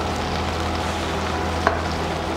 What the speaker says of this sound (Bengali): ভালো করে একবার মিশিয়ে নিচ্ছি।